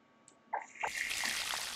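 Water pours steadily while plants are watered in the zoo-building video game Zoo 2: Animal Park, preceded by a couple of soft interface clicks, then a continuous trickling splash that fills the rest of the moment.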